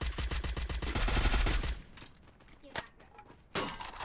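Rapid automatic gunfire from a Bizon submachine gun in the mobile shooter Free Fire: a dense, loud burst of shots for about two seconds, then a few isolated shots, with players talking excitedly over the action.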